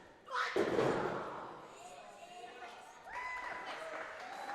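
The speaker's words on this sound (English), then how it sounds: "And Mia Friday meeting Amber with some clotheslines here" Women's gauntlet match wrestlers trade clotheslines in the ring, with a sharp body slam thud near the start followed by crowd noise and commentary.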